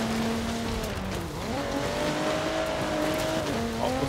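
A Porsche Macan SUV in Forza Horizon 4 drives fast, its engine drone rising and falling through gear changes. The tone climbs steadily toward the end, loud and continuous, with no talking.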